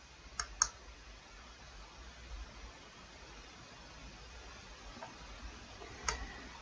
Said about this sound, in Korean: 이번에는 저장 버튼 옆에 있는 테스트를 클릭해 보도록 하겠습니다.